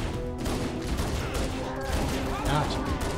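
Rapid gunfire in Halo: Combat Evolved rattles continuously in dense bursts at moderate loudness, with a few tonal weapon sounds mixed in.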